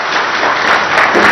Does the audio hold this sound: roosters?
no